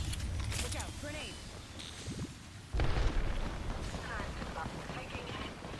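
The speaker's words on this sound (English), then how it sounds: "Look out. Grenade." A grenade blast in a first-person shooter game, a sudden loud boom partway through that breaks over quieter gunfire, clanks and a game character's voice calling out.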